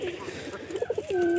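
Pigeons coo softly close by, with a few short murmured coos followed by a longer drawn-out call. There is no talk.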